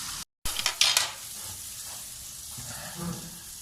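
Chicken reshmi seekh kebabs fry in a pan with a soft, steady sizzle and a few light clinks from the pan near the start, fairly quiet and close.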